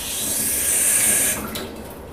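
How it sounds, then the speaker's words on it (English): Liquid draining from a can of chickpeas for hummus, a steady broadband hiss-like pour that holds for about a second and a half, then tapers off quietly. "So I'm going to go ahead and drain half of the liquid."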